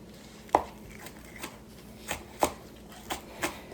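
Knife chopping green onion on a cutting board, a dull blade landing in about six distinct, sharp knocks spaced unevenly over a few seconds, close and clear with no talking.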